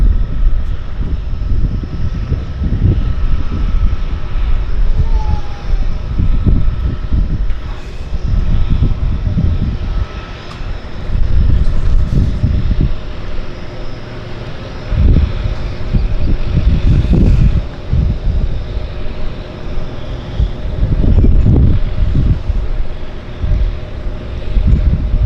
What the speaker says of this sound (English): I think I hear those engines